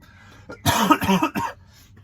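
A person coughs several times in a quick rough burst, close and fairly loud, then falls quiet.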